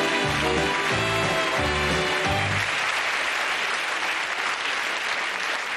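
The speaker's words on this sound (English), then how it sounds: "So, give her a nice big clap," Big Break snooker game show studio audience applauding in a steady, dense wash that holds throughout, with music playing over it during the first half.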